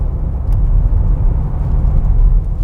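An MG 3 Hybrid+ 2024 small hatchback pulls away, its low steady engine and road rumble continuing close and even throughout without any talk.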